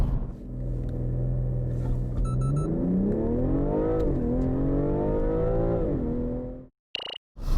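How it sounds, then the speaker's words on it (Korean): A 2021 BMW M340i xDrive Touring with a turbo engine accelerates hard on a sub-zero morning. Its engine note climbs loudly through a gear change, rumbling and rising steadily, then cuts off near the end. "이 M340i 엑스드라이브 투어링 과연 가속 성능은 얼마나 되는지 한번 볼까요?"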